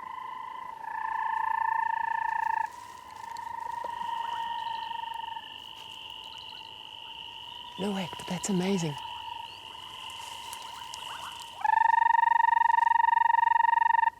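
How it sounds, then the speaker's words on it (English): A rarely seen banded rubber frog calling from bushes in the African wild, giving sustained, high-pitched whistling trills that shift in pitch and grow louder near the end, with a person briefly speaking midway. "located a rarely seen banded rubber frog"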